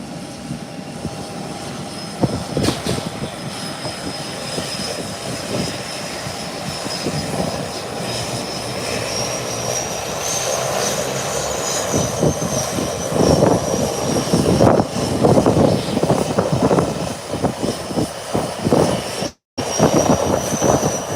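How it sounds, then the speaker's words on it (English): American Airlines airliner being pushed back at the gate, a loud steady engine whine and roar with clanks and thumps scattered through it, growing somewhat busier toward the end. "here comes American Airlines being pushed back"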